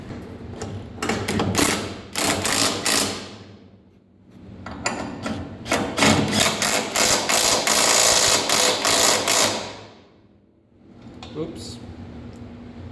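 Belt-driven roller on a farm blower at a dairy farm, spinning with a busy mechanical whir and rattle that surges, drops away, returns for several seconds and fades, close up.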